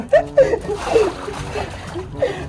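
Tap water splashes and spatters as a large pet bird is rinsed under a faucet, with a few sharp splashes over continuous running water and a voice talking throughout.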